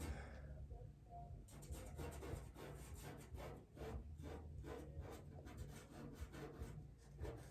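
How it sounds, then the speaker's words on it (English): Soft pastel sticks rubbing and blending across paper in a close, continuous scratchy swishing with repeated back-and-forth strokes, no voices. "There's a lot of blending gonna go on in these paintings"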